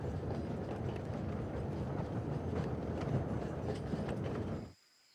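Steam train carriages rattle along a 1932 railway journey through Java, Indonesia, a dense continuous rumble of wheels and wagon clatter with rhythmic clicks, loud and close, cutting off abruptly near the end.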